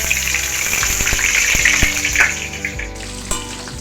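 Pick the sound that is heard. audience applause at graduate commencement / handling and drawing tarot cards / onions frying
onions frying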